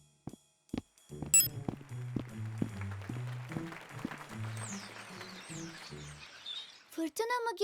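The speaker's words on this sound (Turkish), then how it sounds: "Madalyonumla kuşları dinleyeceğim." Cartoon birds chirp in quick high bursts over a busy musical score in a children's animated series, with short tweets scattered across the scene and a sharper flurry near the end.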